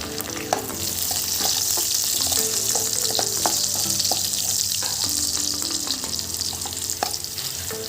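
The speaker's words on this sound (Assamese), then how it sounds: "ফ্ৰাই হৈছে আৰু। ইয়াতে দিম 3টা কেঁচা জলকীয়া।" Pork sizzles in a pan with onions and three raw green chilies for a colocasia stem curry. Constant frying crackle runs throughout, broken by repeated clinks and scrapes of stirring, with no speech.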